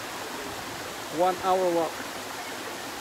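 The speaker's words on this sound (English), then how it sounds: "the one in the back is called Bonita Waterfalls" Bonita Falls waterfall gives off a steady, even rush of water, with a person briefly speaking over it midway.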